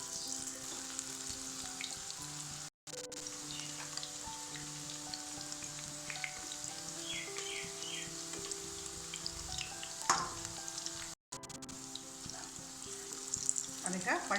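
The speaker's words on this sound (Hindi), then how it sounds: "तेल गरम भेला के बाद में कचरी जकाँ बना के एकरा छनबाक छै।" Taro leaf rolls deep-frying in hot mustard oil, a continuous bubbling sizzle with occasional stirring or turning clatter, close and steady, with no talk.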